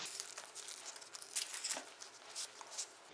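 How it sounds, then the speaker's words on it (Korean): Outer skin being peeled from a dirt-covered green onion (daepa) by hand, giving close, quiet crinkling and tearing rustles in short bursts with no talk. "껍질을 이렇게 벗겨, 벗기면 돼요."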